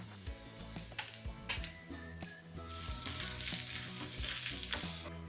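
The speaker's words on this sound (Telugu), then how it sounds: "ఉల్లిపాయలు మటుకి మంచి బ్రౌన్ కలర్ అయ్యేంత వరకు ఫ్రై చేసుకోవాలి" Onions fry in oil until browned for tempering, a close, continuous sizzle under a steady musical backing, with occasional spoon taps and stirring scrapes.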